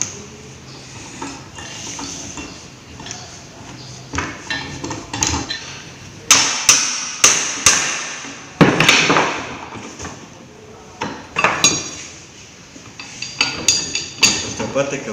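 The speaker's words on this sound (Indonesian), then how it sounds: "Kemudian lepas long tie rod yang sisi satunya lagi dengan menggunakan kunci pipa." A long tie rod being removed from a hydraulic rack-and-pinion power steering unit with a pipe wrench, heard as loud, close metallic knocks, clanks and scraping in irregular bursts.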